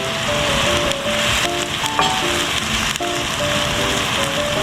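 Tomato hits a hot oiled pan while cooking ginataang kuhol, a Filipino snail dish in coconut milk, giving a steady loud sizzle and frying crackle that runs without pause, with a few faint stirring clinks.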